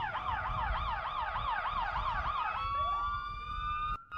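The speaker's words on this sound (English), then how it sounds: "With the lights on, sirens going," A loud, close fire engine siren wails in rapid rising and falling cycles during a parade, then shifts to a steadier tone before cutting off.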